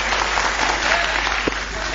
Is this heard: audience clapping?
yes